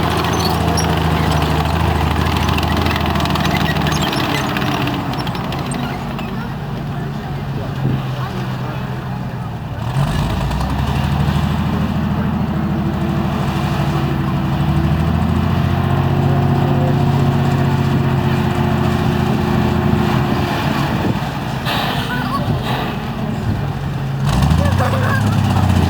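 An armoured military tank at a military history museum display runs its engine steadily while reversing at low and then high speed, a loud continuous rumble with shifting tones under a commentator's voice.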